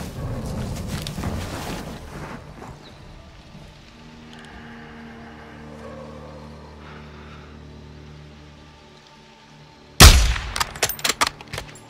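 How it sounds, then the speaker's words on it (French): Sniper rifle gunshots in the Modern Warfare 2 campaign: a sharp loud report near the end followed by a quick series of crackling echoes, after a stretch of quiet game ambience and low rumble. "Abattez ces 2 d'une seule balle."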